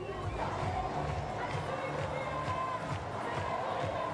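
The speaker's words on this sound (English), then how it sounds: "the crowds have turned out in force" A large street crowd gathers for the Olympic flame's arrival in Marseille, a steady, dense murmur of many voices with scattered calls, heard as a distant, continuous hubbub.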